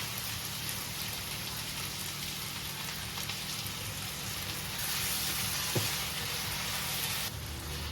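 Spice paste of ground cumin and other masala sizzling in a hot pan after a splash of water is added, a steady crackling hiss that holds at an even level throughout with no voices.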